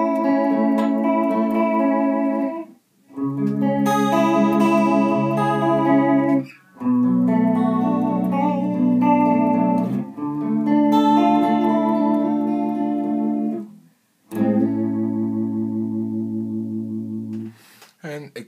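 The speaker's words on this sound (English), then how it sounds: "So there's your simple chorus pedal." A guitar runs through a simple chorus pedal with the speed turned up, giving sustained chords a fast shimmering warble, played in several separate phrases with brief gaps between them.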